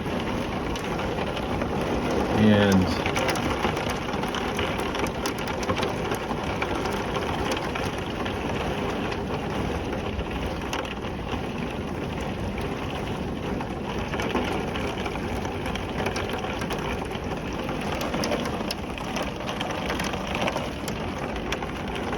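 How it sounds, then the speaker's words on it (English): Heavy rain pours down during a sudden March thunderstorm, a dense, steady wash of drops drumming on surfaces that lasts throughout, close and loud, with a single spoken word near the start. "you can see how much the rain is coming down all of a sudden"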